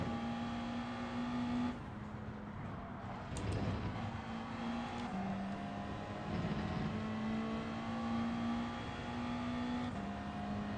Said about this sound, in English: Too many downshifts.